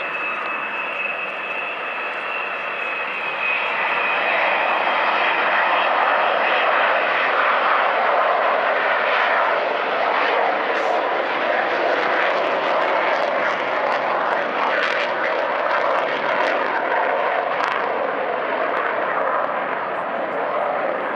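Avro Vulcan XH558 delta-wing jet bomber at the 2014 Bournemouth Air Festival: a loud, sustained jet roar with a steady whine and crackling surges, heard at a distance with a commentator talking over it.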